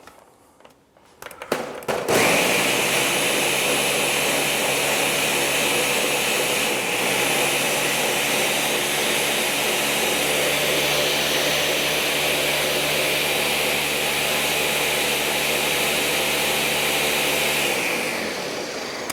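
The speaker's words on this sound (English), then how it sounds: "So we're going to puree this and blend it." An electric blender purees red chile, starting with a few clunks, then running as a loud, steady, close motor whir that holds for most of the time before winding down at the end.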